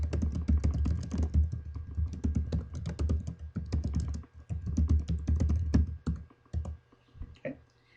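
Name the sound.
computer keyboard typing a folder name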